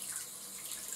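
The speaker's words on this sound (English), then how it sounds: "so now I'm gonna just fill my sink with some warm water." Warm water runs steadily from a tap into a bathroom sink bowl, a continuous close hiss and splash that holds at an even level for the whole stretch, with no one talking.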